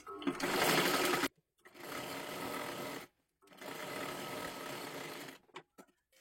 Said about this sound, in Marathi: इथे पूर्ण शिलाई मारून घ्यायची आहे अशा पद्धतीने